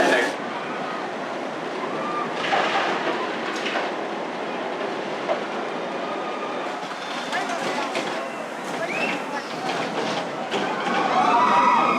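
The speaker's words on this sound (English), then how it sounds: "Next up, the 1991 Vortex. Awesome air suspended coaster." A steady rumbling roar of the 1991 Vortex suspended coaster train at Canada's Wonderland on its track, with rattling and clacking as the ride runs continuously, close and loud throughout.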